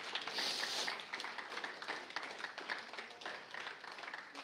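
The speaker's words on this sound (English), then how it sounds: "Let's give God a big clap." A church congregation clapping at a Sunday service, a soft, steady patter of many hands heard at a distance, with a few voices faintly under it.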